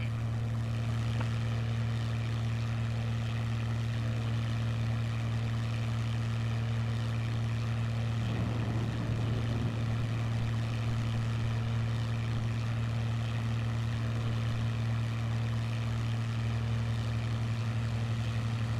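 A propeller aircraft engine in a flight simulator game drones steadily and loudly throughout, a constant buzzing hum with a brief rougher swell partway through.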